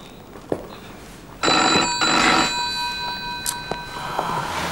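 A telephone bell rings in a home setting, a loud sustained electronic ring starting partway through and continuing with a brief pause, preceded by a few quieter knocks and handling sounds.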